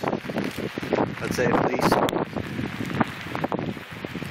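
Strong, gusty northwest wind from Hurricane Sandy in Dover, Delaware, around 29 miles an hour, buffets the microphone with a constant roar, rising and falling, while someone speaks over it.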